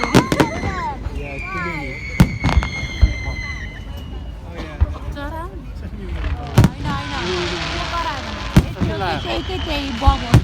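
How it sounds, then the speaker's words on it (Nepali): Bonfire night fireworks burst over Worthing seafront in a series of sharp bangs and crackling pops, some near and loud, with a busy crowd of voices talking and murmuring underneath. "त्यही बमहरू कराइरहेको पटाकाहरू"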